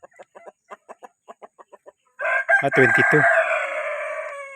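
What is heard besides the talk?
chickens clucking and rooster crowing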